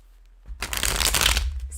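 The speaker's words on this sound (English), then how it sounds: "Let's get a nice shuffle going." A deck of tarot cards riffled in a quick, close shuffle, a dense crisp flutter lasting about a second after a quiet start.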